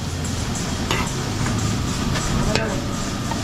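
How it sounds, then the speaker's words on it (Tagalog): Garlic sautés in a pan with a dense, continuous sizzle close by. Occasional light clicks of a utensil are heard, and no voice comes through. "Gigisin lang natin ng todo yung ating bawang mga kabeli hanggang sa mamula."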